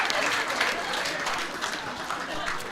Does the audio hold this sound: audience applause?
yes